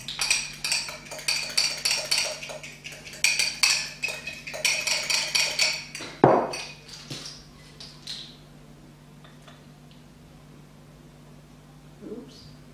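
A spoon stirs and clinks against a bowl while cider vinegar hair lotion is mixed, giving a run of rapid scraping clinks for about six seconds, then a single sharp knock and a few faint taps before near silence.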